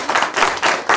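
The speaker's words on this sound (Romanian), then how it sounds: "Vreau să aplaudăm." An audience at a Romanian round-table event bursts into brief applause, rhythmic bursts of hand clapping filling the room, loud and close, with no speech.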